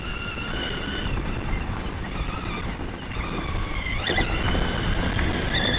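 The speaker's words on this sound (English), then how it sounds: "Bike is fast, man." A Bonnell 775 MX dirt bike rides fast with a continuous, droning engine note that holds steady and then climbs in pitch as the rider opens the throttle, recorded close and loud with wind rush.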